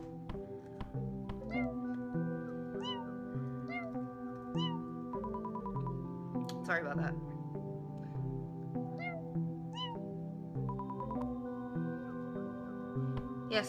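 A cat meows repeatedly in a Halloween house game, several short meows scattered over sustained game music, with a brief spoken line partway through.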